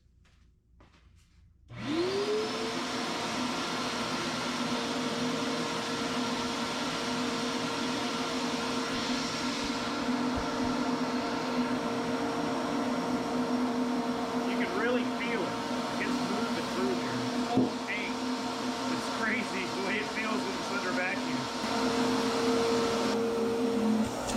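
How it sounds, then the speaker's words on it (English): A vacuum motor switches on and runs with a steady loud whine, with intermittent rattling and scraping of rust debris being drawn out of a rusty Suzuki DR350 dirt bike gas tank. "the vacuum is going to pull that debris out as we go"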